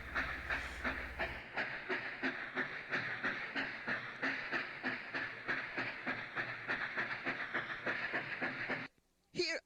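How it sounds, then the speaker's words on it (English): A recorded train sound effect played by a Mego 2XL toy robot chugs in a steady, rhythmic puffing pattern with hissing steam, fairly loud and sustained before cutting off into silence and a brief click. "was that the sound of a train"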